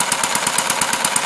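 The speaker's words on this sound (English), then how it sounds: "I'm idling here at about 780 RPM" A small engine fitted with a Chuck Fellows style carburetor idles steadily at about 780 RPM, a close, loud, rapid even chugging beat with no talking.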